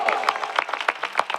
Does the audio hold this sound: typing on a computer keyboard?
no